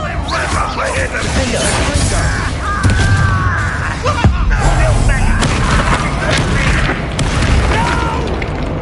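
Confringo fire spell explosions in the video game Hogwarts Legacy, several deep booms amid battle effects and creature cries, with character voices speaking over the combat.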